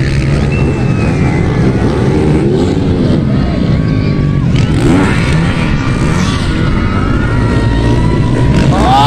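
Motocross motorcycles racing and jumping at a final competition in Mampang, Zamboanga City, engines loud and close with rising and falling revs, wind buffeting and a crowd or spectator voices underneath.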